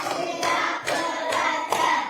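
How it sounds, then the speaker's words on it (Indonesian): Classroom students clapping in unison in a concentration clapping game, four sharp group claps spaced evenly and close, with a few short clap bursts between. "Tepuk konsentrasi."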